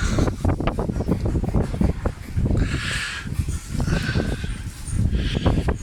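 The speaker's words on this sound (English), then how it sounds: "Can you hear that wind?" Strong wind buffets and roars across the microphone in uneven gusts beside a Jaguar XKR, with rumbling bursts and a faint rustle underneath.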